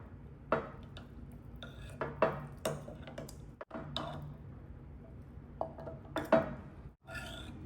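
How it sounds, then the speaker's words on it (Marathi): A spoon scrapes and clinks around a bowl as lemon peel pickle is mixed with cooled oil, giving soft, irregular taps and wet stirring sounds up close with no talking. "आणि आता हे आपण छानपैकी मिक्स करून घेणार आहोत."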